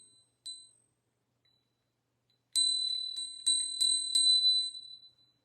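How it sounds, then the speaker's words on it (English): A Ganesh bell rings in a quiet room, one early faint chime, then after a silence a cluster of bright jingling strikes that ring out and fade. "Ring the Ganesh bell."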